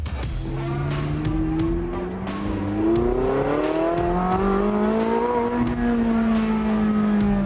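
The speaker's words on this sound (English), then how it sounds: "Love the sound of this thing when you crank it up. It's so throaty." A Porsche 918 sports car driven hard, its engine revving up through rising, throaty tones as it accelerates, loud and close from inside the cabin, with pitch climbing and holding steady and no talk over it.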